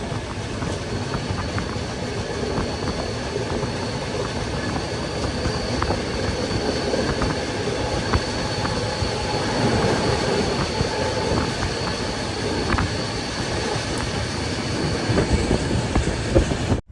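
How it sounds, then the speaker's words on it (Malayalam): An AC Express passenger train runs steadily on rails near Tirur, Kerala, with a continuous loud rumble of wheels, faint clickety-clack and occasional metallic squeals, no voices. "ട്രെയിൻ ഇപ്പൊ തിരൂരേക്ക് എത്തിക്കൊണ്ടിരിക്കുകയാണ്."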